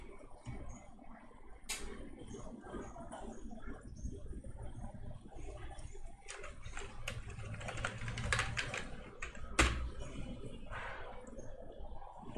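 Steady rapid typing on a computer keyboard while writing PHP code, continuous clattering keystrokes at close range with occasional louder taps, no voices.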